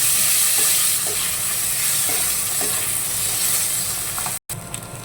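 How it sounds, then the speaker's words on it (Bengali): Cut potatoes fried with cumin, bay leaves and dried chilies sizzle steadily in hot oil while a utensil stirs them now and then, a continuous close frying hiss with a brief break near the end. "আলুগুলো একটু ভালো করে ভাজবো।"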